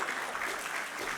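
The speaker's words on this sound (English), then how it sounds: "I would like to ask all of you to pay an applause" Audience applause for the organisers at the close of a European Systemic Risk Board conference, a steady dense clapping from a large crowd filling the room throughout.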